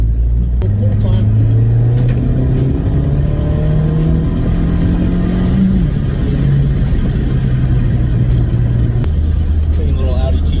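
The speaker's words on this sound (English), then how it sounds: "Clean little Audi TT going by." A newer-generation Audi TT passes close by, its engine note rising and steady for several seconds, mixed with background traffic rumble and voices talking nearby.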